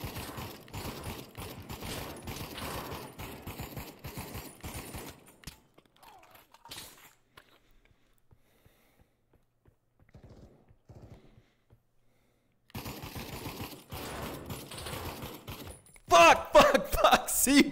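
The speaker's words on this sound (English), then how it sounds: "Everybody's shooting at me." Video game gunfire in rapid bursts, crackling shots heard amid game noise, with a long quiet stretch in the middle and louder effects near the end.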